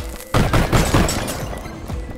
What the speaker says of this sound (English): Those explosions are dangerous.